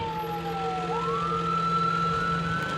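An ambulance siren wails steadily, its pitch sliding down and then rising again over a continuous engine rumble, loud and close with no other sounds.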